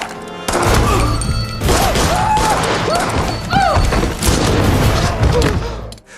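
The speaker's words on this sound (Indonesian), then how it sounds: "perwira Martinez datang yang langsung mengeluarkan senjatanya dan menembak Venegas" Loud booming gunshot blasts from a film scene, several sharp impacts mixed with music and effects, with no talking over them.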